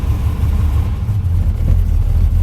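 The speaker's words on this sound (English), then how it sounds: "if you rev it, it goes faster" A Jeep with a Renix engine and a stroker build that runs rich revs loud and close: a deep, steady engine drone with a slight rise in pitch, no voices.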